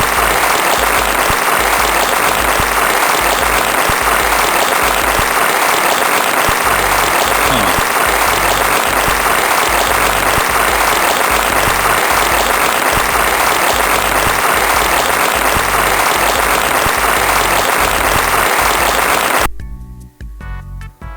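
A canned applause effect is triggered from a sound-effects sequencer: dense, sustained clapping and cheering fills nearly twenty seconds at high level, then cuts off abruptly near the end with no voices over it.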